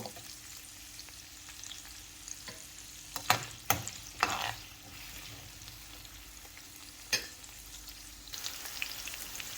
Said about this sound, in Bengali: তো এখন আমি পেঁয়াজটা একটু লাল করেই বাজিয়ে নিব